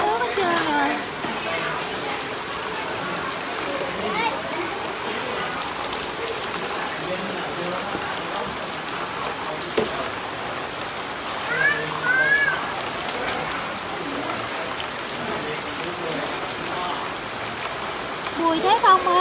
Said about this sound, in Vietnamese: Bây giờ là mưa liên tục, mưa rất là nhiều rồi